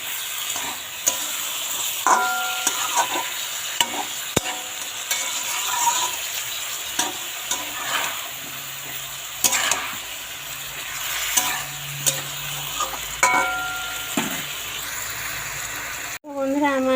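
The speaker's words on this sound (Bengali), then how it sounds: "ফুলকপি আলু মজে গেছে আর ভাজা ভাজাও হয়ে গেছে" Cauliflower and potatoes stir-fried in a pan with turmeric, the utensil scraping and clacking against the pan over a steady sizzle, with intermittent strokes throughout and a brief clatter near the end.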